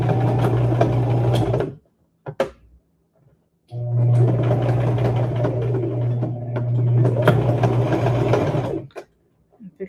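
A sewing machine stitching a rag quilt held in a hoop, two long steady whirring runs separated by a pause with a few brief clicks.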